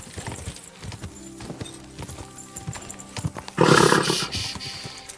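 Hooves clopping steadily at close range in the video game Kingdom Come: Deliverance II, ending in a loud burst of a horse's snorting or whinnying.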